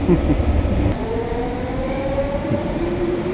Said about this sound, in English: the train's going the other direction here